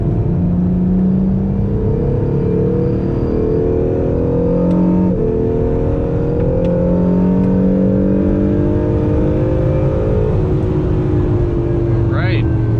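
An Acura NSX accelerates hard on the front stretch at Gingerman Raceway, its engine a loud, continuous rising drone heard from close inside the car, with the pitch climbing through gear changes.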